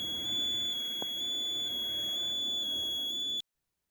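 A buzzer driven by a PIR motion sensor, with no microcontroller, sounds a steady, high electronic alarm tone for several seconds and then cuts off abruptly, fairly quiet and alone.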